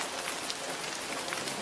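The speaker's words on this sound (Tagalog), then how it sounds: "Nangyayon kami sa lakas ng ulan." Heavy rain pours steadily onto a surface, a dense, even hiss of drops that stays loud and constant throughout with no voices.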